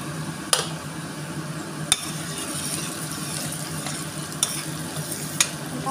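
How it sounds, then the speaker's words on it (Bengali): Chopped onion sizzles steadily in hot oil for a mutton curry, with a few sharp utensil scrapes and knocks as it is stirred; close, continuous frying with no talking. "এবার দিয়ে দেব কুচনো পেঁয়াজটা হালকা বাদামি করে ভেজে নেব।"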